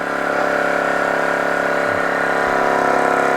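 A small toy steam engine runs steadily on a ranch workshop bench, giving a close, even mechanical whir with a constant hum and no pauses.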